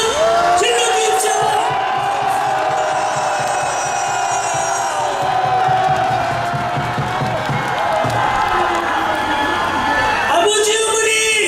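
A huge outdoor crowd at an anti-impeachment rally at Dongdaegu Station in Daegu roars and shouts together, a loud, sustained mass of cheering and whooping that swells again near the end.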